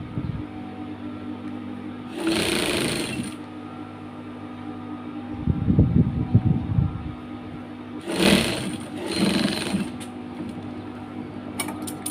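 A sewing machine stitching fabric in a DIY garment workshop, short whirring bursts of stitching separated by pauses, with a steady low hum in the background throughout.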